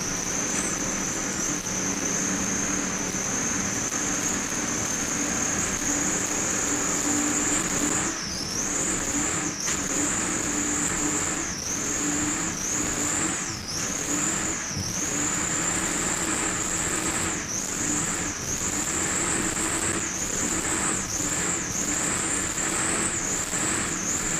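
A race car engine whines at high pitch from inside the cockpit during a 2002 race, holding steady and then dipping and rising over and over as the car shifts and slows for corners.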